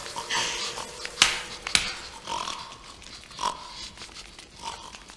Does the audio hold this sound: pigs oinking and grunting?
yes